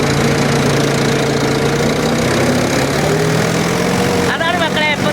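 Tractor engine running steadily and loudly while ploughing a field, a continuous close-range rumble throughout, with a brief higher-pitched sound near the end.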